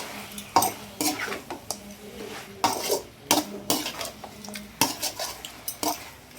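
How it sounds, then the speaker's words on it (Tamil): Duck curry being stirred and sautéed in a pan, with repeated scraping and clanking of a utensil against the metal over a faint sizzle, close and fairly loud. "கறி எல்லாத்தையும் சேர்த்து நல்லா வதக்கிக்கிட்டே இருக்கலாம்"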